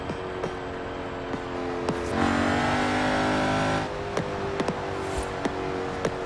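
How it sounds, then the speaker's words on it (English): A Bowler EXR S offroad supercar engine roars as it accelerates, with sharp exhaust pops and crackles snapping repeatedly before and after the surge. "You can hear the exhaust crackle as well."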